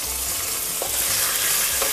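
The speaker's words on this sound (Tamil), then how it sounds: "இப்போ இந்த சுண்டக்காய் எல்லாம் ஒன்று சேர்ந்து வதங்கிட்டு வருது" Turkey berries sauté in a pan for a traditional roasted-spice kara kuzhambu, giving a steady close sizzle broken by a couple of brief scraping stirs, with no talking.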